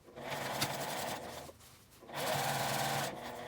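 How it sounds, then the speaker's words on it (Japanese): A sewing machine stitches a U-shaped seam about 1 cm from the fabric edge on a drawstring backpack bag, running in two steady bursts separated by a brief pause, close and clear with no talk. "ここにコの字のミシンをかけます。"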